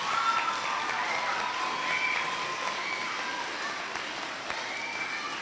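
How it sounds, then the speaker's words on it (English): A school audience in a gym or hall applauds the classes, a steady wash of clapping that stays moderately loud but somewhat distant throughout, with a little crowd murmur mixed in. "Let's give them another round of applause."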